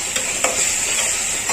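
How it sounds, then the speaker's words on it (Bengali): A small amount of garlic fries in oil for a salted hilsa curry, hissing steadily while a utensil stirs and scrapes the pan in a few quick strokes, close and loud. "রসুন দিয়ে দিলাম খুব সামান্য পরিমাণ, আবার ভালো করে একটু কষাই নিই।"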